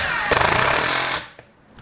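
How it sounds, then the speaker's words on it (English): A power drill runs in a woodworking shop during a kitchen remodel face-frame build, one loud, buzzing burst of about a second that cuts off abruptly, with no talking. "He's letting me play with a drill today."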